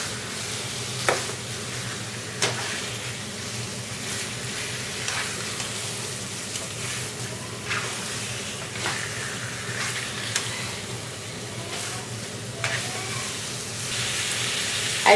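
Chicken curry is stirred with masalas in a pan, a steady loud sizzle of frying running throughout, with occasional soft scrapes and clicks of the spoon against the pan.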